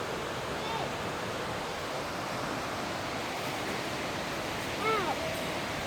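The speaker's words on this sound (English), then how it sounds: "there's a river down there" A river rushing below an old railway tunnel, a dense, steady wash of water noise, loud and unbroken throughout, with a few faint chirps above it.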